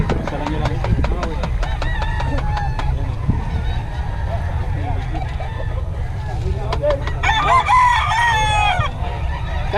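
Roosters crowing repeatedly among clucking chickens, loud and close, with several long crows overlapping a constant background and people talking nearby.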